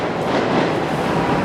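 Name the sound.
train going by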